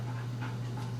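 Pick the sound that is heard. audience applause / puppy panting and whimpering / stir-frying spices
puppy panting and whimpering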